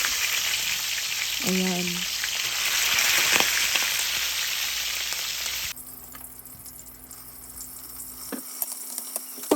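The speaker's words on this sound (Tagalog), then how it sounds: "ipiprito ko naman sila sa mainit na oil sa kawali" Pork pieces for sisig frying in hot oil in a pan over medium heat, a dense loud crackling sizzle that drops to a quieter hiss partway through, with a brief spoken word early on.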